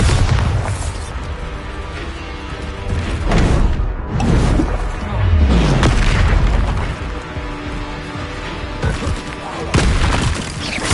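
Spell explosions from the Hogwarts Legacy video game: repeated booming blasts and bursts over a dense, loud game mix of crackles and rumble, with a voice faintly underneath.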